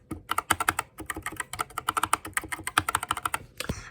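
A Dierya mechanical keyboard fitted with orange O-rings is typed on in a fast, steady stream of muffled clicks and clacks, close up, with no voices.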